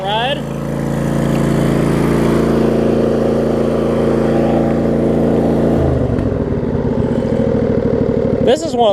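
A John Deere LX279 lawn tractor engine runs steadily and loudly up close with a constant droning hum, then its tone shifts and roughens near the end; a voice talks briefly over it.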